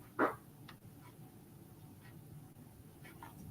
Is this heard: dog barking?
yes